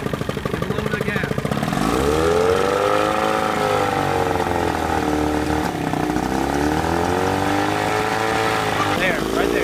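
A jon boat's outboard motor runs steadily after starting, a loud continuous engine drone with shifting pitch as the throttle is eased up and down; people talk over it.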